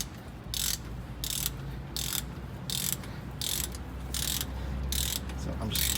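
A ratchet wrench tightens a brake slack adjuster on a GM 4104 bus, giving regular bursts of rapid clicking about every half second over a low background hum.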